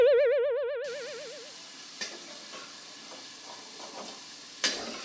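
Potatoes frying in a pan on a stove give a soft, steady sizzle with occasional sharper pops and spatters, after a brief electronic chime at the start.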